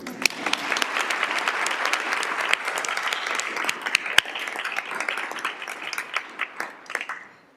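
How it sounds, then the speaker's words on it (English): An audience applauds at a school board meeting, with dense sustained clapping from many hands that thins out and fades to a few scattered claps at the end. "We're going to clap"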